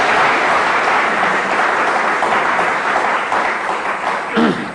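A studio audience applauds steadily and loudly at a 1983 Pakistani TV show, dense clapping throughout with faint voices underneath.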